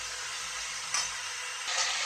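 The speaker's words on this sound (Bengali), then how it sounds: "নুন দিয়েই এটাকে এবারে ভাজা ভাজা করছি" Vegetables for Bengali shukto frying with salt in a pan, giving a dense even sizzle close up and two brief swells as they are stirred.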